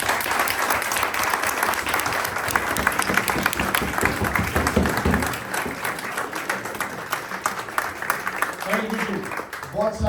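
Audience at a political reception in Pakistan applauds steadily for about ten seconds, dense clapping throughout with a few voices mixed underneath.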